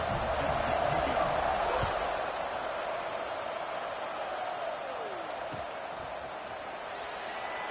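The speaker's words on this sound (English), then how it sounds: "this crowd is buzzing after that last score" A large stadium crowd at an American football game keeps up a broad, steady buzz of voices after a score, with an announcer talking over the continuous roar.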